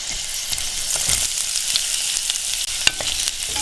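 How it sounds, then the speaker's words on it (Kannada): Medium onion, sliced lengthwise, frying in a pan with a dense continuous sizzle close up, a few light stirring scrapes and taps standing out over the hiss. "ಒಂದು ಮೀಡಿಯಂ ಸೈಜ್ ಈರುಳ್ಳಿನ ಉದ್ದುದಕ್ಕೆ ಕಟ್ ಮಾಡಿಕೊಂಡು ಹಾಕ್ತಾ ಇದ್ದೀನಿ"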